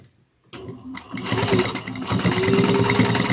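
Sewing machine stitches folded fabric tabs at a 3/8-inch seam, starting abruptly after brief quiet and then running steadily with a fast, buzzing mechanical rattle close by.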